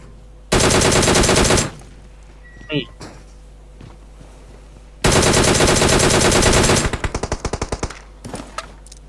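Automatic gunfire in PUBG Mobile: two long, loud, sustained bursts separated by a quieter gap, the second trailing into a rapid string of separate shots, with brief speech from players between bursts.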